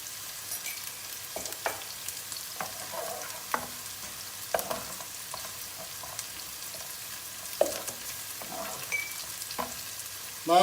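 Onions turning pink in a pan with a spoonful of mint added, a steady faint sizzle with occasional light spoon taps and scrapes.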